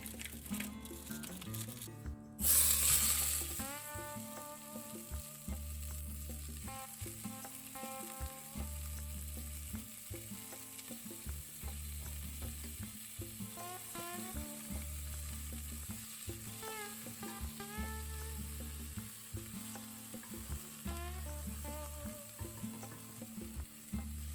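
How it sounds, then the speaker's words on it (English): Ground beef sizzles in avocado oil in a covered saucepan, a close, steady crackle under a rhythmic background pulse, with a brief louder clatter near the start. "So you're going to cook this and scramble the beef while it's cooking."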